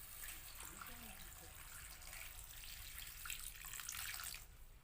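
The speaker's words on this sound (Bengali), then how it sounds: "জল দিয়ে দিচ্ছি।" Clean water poured into a kadai set on the stove for boiling washed, cut jackfruit, a steady broadband splashing stream running for about five seconds at moderate level, swelling slightly louder toward the end.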